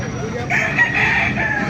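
A rooster crows loudly nearby in one drawn-out call, with faint background chatter, at a pet market in Baliuag with roosters of breeds like Rhode Island Red, bantam and Brahma.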